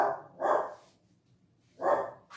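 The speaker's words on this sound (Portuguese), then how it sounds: "Ó, meu cachorro." A dog barks twice, each bark a short, loud burst separated by about a second and a half of near silence.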